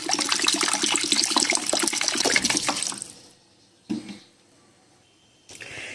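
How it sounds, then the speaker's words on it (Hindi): About a litre of water gushes loudly into a cooking pot holding whole spices for a mutton kabab recipe, a steady pour for three seconds, then a brief splash and a final trickle. "1 लीटर इसमें पानी जाएगा, वो ऐड कर देते हैं।"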